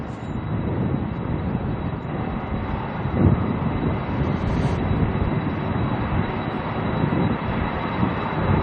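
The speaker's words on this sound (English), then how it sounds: "Can't quite see the 767 yet of Tasman. Can hear it though." A Boeing 767 jet at Auckland Airport, heard out of sight as a steady broad engine roar at moderate distance, unbroken and without talk.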